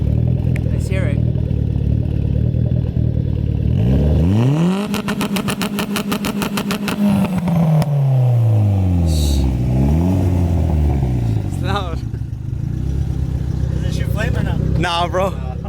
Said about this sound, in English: So now we're checking launch control.